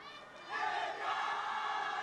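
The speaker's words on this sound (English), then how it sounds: "the crowd has been involved right throughout this fixture" Spectators at a women's football match between Nepal and India roar loudly, a dense crowd cheer that swells after a quieter start and holds steady.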